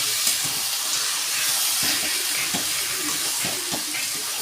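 Mutton goes into a hot pan of softened tomatoes with salt and green chillies: a broad, hissing sizzle holds steady throughout, with a few soft knocks and stirring thuds, close and fairly loud, with no talking.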